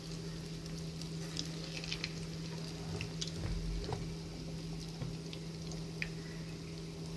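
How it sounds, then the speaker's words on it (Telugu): Urad dal punugulu fritters deep-frying in hot oil, a steady close sizzle with soft bubbling and occasional stirring clicks throughout, no voices. "చక్కగా గోధుమ కలర్లో వచ్చేటట్టు వేయించుకోవాలండి."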